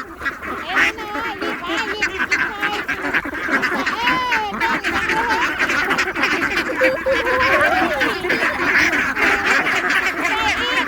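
A large flock of ducks quacking nonstop, a loud overlapping chorus of many birds close by, with no pauses.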